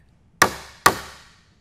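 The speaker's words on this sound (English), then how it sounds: "You'll notice I'm actually hitting the chisel fairly hard, and that's because my leaf of my hinge is quite thick." Two hard, sharp hammer blows land on a chisel cutting a recess for a thick-leafed butt hinge, close up and about half a second apart, each ringing briefly before dying away.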